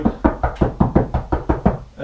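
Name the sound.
knocking on pine wood wall to find studs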